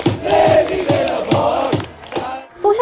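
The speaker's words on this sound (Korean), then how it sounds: "한나라에서는 박수와 환호가 이어져요." Crowd in Ireland cheering at the news of Queen Elizabeth II's death, a loud massed chant rising and falling in rhythmic waves, with voices merging into a roaring cheer close by.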